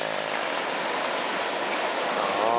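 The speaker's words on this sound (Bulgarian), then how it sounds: "Пуснаха водата в шлюза." Steady rushing water filling a canal lock, a broad continuous roar like water pouring in through an opening, close and unbroken with no voices.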